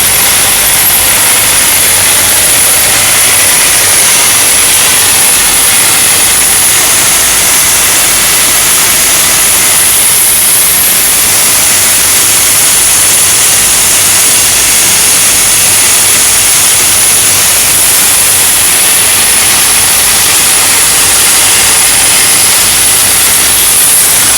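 A loud, steady broadband hiss of steam venting from a World War-era steam locomotive in Thailand, rushing continuously without pause for the whole stretch, with a low rumble underneath.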